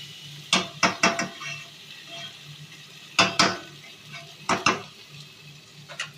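Chicken with cumin paste, chilli powder and chicken masala stir-frying in a pan, soft sizzling punctuated by clusters of quick metallic scrapes and clanks from a spatula, close by, with pauses between bursts.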